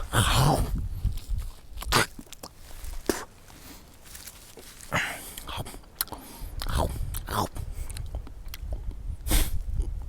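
A pet turtle crunching and chewing food close to the microphone, with repeated sharp crunches and bites spread irregularly across the span, mixed with soft handling noise and low background sounds.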